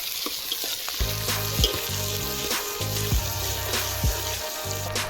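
Chopped onions sizzling in hot oil while being stirred for a jackfruit biryani, a continuous close frying hiss broken by several scraping stirs of a spoon against the pan.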